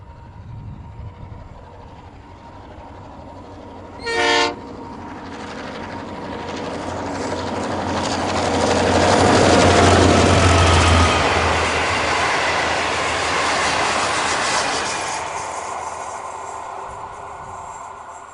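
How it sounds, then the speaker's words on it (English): A vintage EMD Streamliner GM22 leads Alco Branchliner engine 4829 past on a short-haul railroad. Loud, steady rumbling builds and fades across the passage, with a brief horn burst near the start and wheel noise throughout. "Vintage engines owned by Southern Short Haul Railroad lead the service, with EMD Streamliner GM22 leading Alco Branchliner engine 4829 on its first trip through the state."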